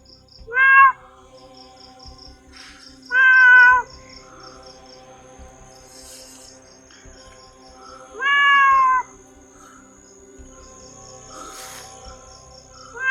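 Cats meow three times at night, each cry loud and drawn out with gaps between, over a steady bed of chirping crickets and insects.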